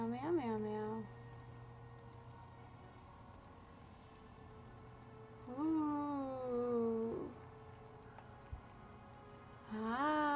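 A voice imitates the Guild Wars 2 cat meow game sound. There are three drawn-out, wavering meows, the middle one longest, with quiet gaps between them over a low background hum.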